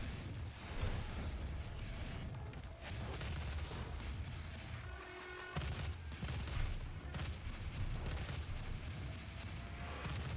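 Rapid weapon fire and booming impacts from the plasma rifle in Doom (2016), a dense, continuous barrage of loud bursts and blasts throughout.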